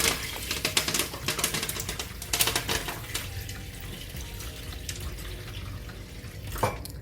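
Beans are rinsed in water in a kitchen, giving irregular splashing and swishing with running-water noise and a few sharper sloshes, close and fairly quiet, with no talk.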